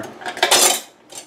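A metal spoon clatters against a soup pot as a spoonful of butter goes into homemade soup, a short burst of close, bright clinks and scrapes with a softer tap afterward.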